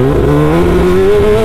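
A Kawasaki ZX-10R sport bike engine revs hard and loud, a rising, strained howl held close to the microphone through a short burst with no talk.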